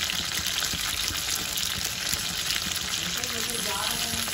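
Onions hitting a hot frying pan of oil, a loud, dense, continuous sizzle that holds steady throughout, close up.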